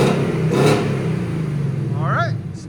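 A 2021 Ford Mustang GT with a 5.0L V8 and stock exhaust revs outdoors, a steady low engine roar that rises and falls, with a person talking over it.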